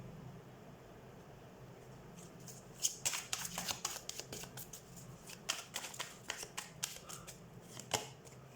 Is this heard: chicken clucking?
no